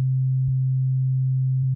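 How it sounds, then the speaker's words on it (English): A pure sine wave test tone plays through a loudness meter setup: a single steady, loud, constant-pitch hum that holds alone for close to two seconds and then cuts off abruptly. "let's try sweeping the frequency of that sine wave"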